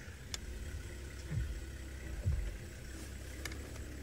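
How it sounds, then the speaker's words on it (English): Safari vehicle engines idling outdoors, a low steady rumble with a couple of short deeper swells, faint and distant, with occasional soft clicks. "You might hear some of the engines and the camera clicking."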